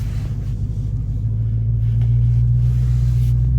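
A Dodge Hellcat in sport mode gives off a deep, steady engine rumble from inside the cabin with the window slightly down, loud and continuous, swelling a little partway through.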